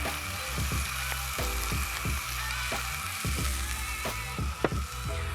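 Steak fajitas sizzling in a skillet at a campsite, a steady bright hiss with regular rhythmic clicks and scrapes running through it, close and moderately loud.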